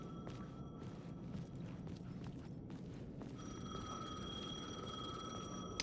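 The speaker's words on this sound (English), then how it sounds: "The payphone was ringing." A payphone rings in the video game Alan Wake 2, its bell-like trill sounding in repeated bursts over a low ambient hum, fairly quiet and with no talk.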